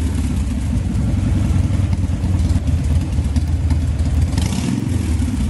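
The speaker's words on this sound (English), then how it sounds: "we're just on an amped up scooter" A steady, buzzy small engine drones continuously at high volume, with slight surges in pitch, a motor scooter running in a video game.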